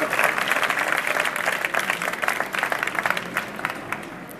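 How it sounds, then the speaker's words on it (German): An audience applauds presenters Happy and Zarok as they come on to talk about their LED cube project, a steady, moderately loud wave of clapping that thins and turns more scattered toward the end. "Einen Applaus für Happy und Zarok."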